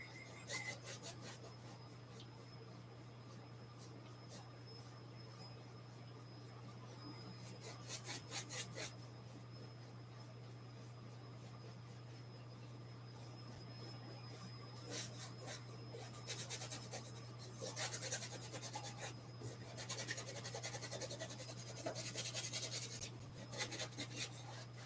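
A brush scumbling paint: faint, dry scratchy rubbing in scattered bursts of quick strokes, separated by quiet pauses, close to the ear over a steady low hum.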